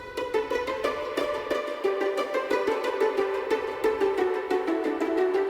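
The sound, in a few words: high pizzicato strings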